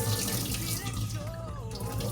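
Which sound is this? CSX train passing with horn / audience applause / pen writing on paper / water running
water running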